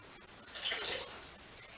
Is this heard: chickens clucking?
no